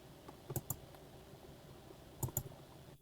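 Computer mouse and keyboard in use while working in Blender, a few quiet, close clicks in two small pairs and clusters separated by near silence, with no talking.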